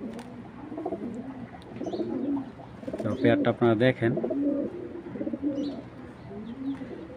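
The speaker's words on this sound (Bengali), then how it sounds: "ফার্স্ট ক্লাস একটা বেজি কবুতর।" A pair of Beji pigeons coo in a rapid rhythmic burst of throaty calls at close range. Someone talks before and after the cooing.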